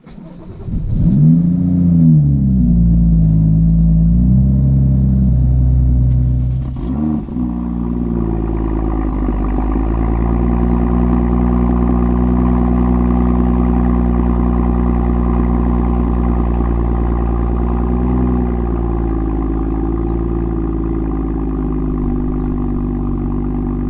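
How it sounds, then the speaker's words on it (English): Cold start of a stock BMW M2 F87 with the N55 engine and stock exhaust: the starter cranks, the engine catches with a loud rev flare, dips, then settles into a steady, loud, deep idle held close up. "You just want to hear the cold start of the stock BMW M2"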